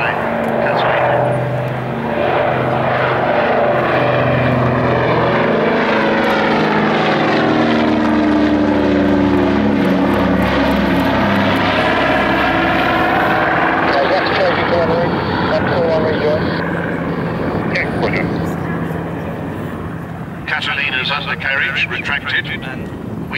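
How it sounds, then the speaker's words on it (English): Radial piston engines of a PBY-5A Catalina amphibious flying boat run loudly and steadily at an airfield display, a deep propeller drone with shifting beats that fades slightly near the end, with a voice talking over it. "And here is the Sophisticat, the magnificent PBY."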